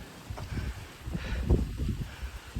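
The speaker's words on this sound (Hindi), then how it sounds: "सब लोग हवा की आवाज़ सुनो, कितनी तेज आवाज़ आ रही है।" Strong wind blowing through a village, a rough, gusty low rumble buffeting the microphone in uneven surges for a few seconds, close and fairly loud.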